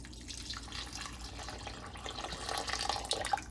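Water splashes and trickles into a pot for elderberry syrup, a busy liquid pouring sound that grows somewhat louder and fuller toward the end, with small bright drips and splashes near the close.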